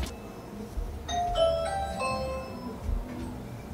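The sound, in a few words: doorbell ringing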